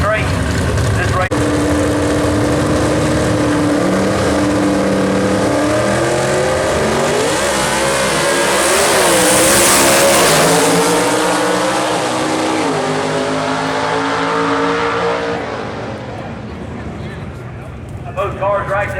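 Gasser drag race cars roar down the track at a Southeast Gassers event in Knoxville, loud sustained engine howl rising in pitch as they accelerate, swelling and then fading away, with an announcer talking over it.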